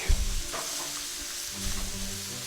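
Shrimp sauté in hot oil and butter with a steady soft sizzle and a few light stirring scrapes, faint and continuous, with no talking.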